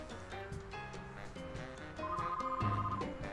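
A telephone rings in the Sam & Max video game, with repeated, faint electronic ringing tones over a soft musical background.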